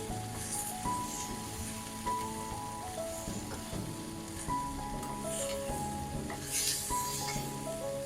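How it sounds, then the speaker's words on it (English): Beef stir-fry with broccoli sizzles in a pan as it is stirred, a steady hiss with scraping bursts running beneath a light melodic music backdrop, no one speaking. "Keep on stirring."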